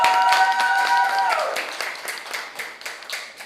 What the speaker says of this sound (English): Applaud our quarterfinalists,